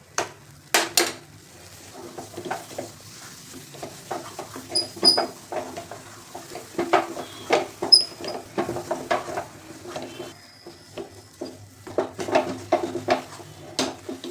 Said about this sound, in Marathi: सारखं हलवत राहायचं, पण बिलकुल सोडून नाही द्यायचं कुठं